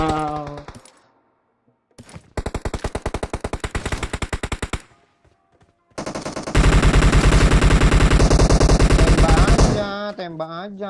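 Bursts of rapid automatic gunfire in a shooting video game: a short rattling volley, a pause, then a long sustained loud burst, with a brief voice at the end.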